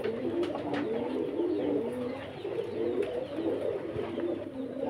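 Pigeons coo continuously in a low, rolling chorus after being fed, with a few sharper clicks and flutters over the steady murmur.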